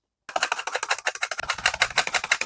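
Unpeeled cucumber being sliced into thin strips: a rapid, even run of crisp cutting clicks, close and loud, with no talking.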